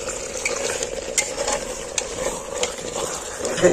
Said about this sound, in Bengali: একবার করে নাড়াচাড়া করবো, কষে নেবো